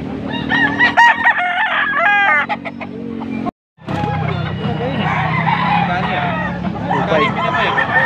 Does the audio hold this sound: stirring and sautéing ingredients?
no